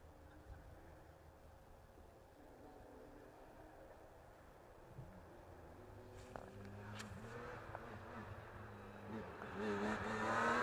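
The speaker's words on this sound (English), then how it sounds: "David Wilson in the BMW. He's getting a tail out on that right-hander." A BMW rally car on a gravel stage during the Mull Rally shakedown, its engine note rising from distant to nearer with revving and gear changes, growing louder toward the end, with faint crowd sounds around it.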